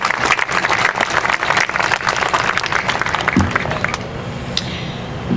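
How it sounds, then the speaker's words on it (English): A seated audience at a city's State of the City address gives sponsors a loud, dense round of applause that runs steadily, then tapers off near the end. "Let's give them a round of applause, all the wonderful sponsors that helped put this together tonight."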